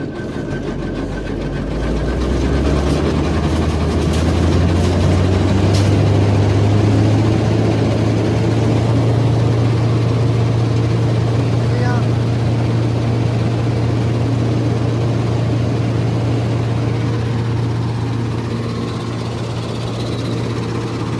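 A straw reaper machine runs with its blades spinning, giving a loud, steady low engine drone with a constant mechanical hum throughout.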